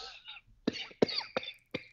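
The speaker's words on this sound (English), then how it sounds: "It's making you cough." A person coughs in several sharp, separate bursts, close and fairly quiet, with a brief throat-clearing start and short pauses between coughs.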